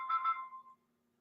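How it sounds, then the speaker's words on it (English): A mobile phone ringtone sounds as a short, clear electronic melody of two quick bursts that trails off after under a second, fairly close and alone, with only a faint steady hum left behind. "my husband's phone is ringing"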